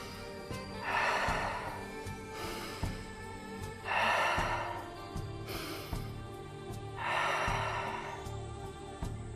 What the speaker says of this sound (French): Tu peux accélérer ta respiration.